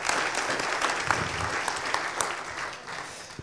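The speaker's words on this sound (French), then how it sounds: "je pense que vous pouvez vous applaudir pour ce travail" An audience at an opening plenary session applauds for several seconds, with dense, steady clapping at moderate volume and a few sharper individual claps standing out.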